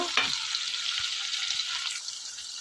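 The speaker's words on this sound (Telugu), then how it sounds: "ఇట్లా వేయించుకుందామండి" Prawns fry in a pan with a steady, bright sizzle that holds close and continuous throughout, with a few soft stirring knocks underneath.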